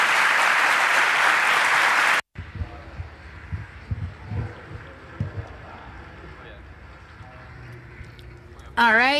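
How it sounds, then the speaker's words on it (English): Audience applause after a conference talk, a dense burst of clapping that cuts off abruptly after about two seconds, followed by quieter room noise and faint voices. "a big applause for them"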